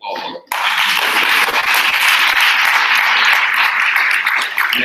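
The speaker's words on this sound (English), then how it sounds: "Let's give a round of applause." Conference audience at a university big data event applauding steadily, a dense, sustained wash of many hands clapping after a short lull at the start, loud and close throughout.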